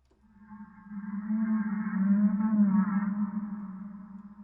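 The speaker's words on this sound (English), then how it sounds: "they sampled a gorilla, slowed it down quite a bit, added a huge amount of reverb, and maybe stretched out the audio a little bit on it" A gorilla vocalization from the Forest Kingdom III sample library, slowed down and stretched with heavy reverb, swells into a deep, moaning, whale-like drone that rises, holds and slowly fades.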